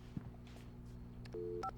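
A landline telephone is dialed in the Alan Wake video game, a couple of faint, short dial tones beeping quietly over low background hum.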